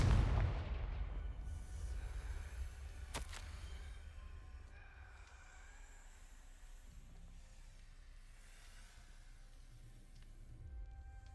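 A Confringo spell explosion in Hogwarts Legacy opens with a heavy, booming blast that rolls off into a long low rumble, followed by one sharp crack and a fading hiss.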